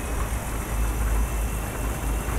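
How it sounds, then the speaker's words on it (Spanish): Rain falls steadily on a Hino 500 truck driving through heavy fog at Alto de Letras, Colombia. It makes a continuous close hiss over a low engine rumble. "Es la lluvia, amigos."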